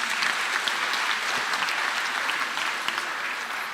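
A church congregation at a Kikuyu Sunday service for church school claps for the children: a sustained wash of many hands, even and moderately loud, with scattered sharper claps and no speech over it.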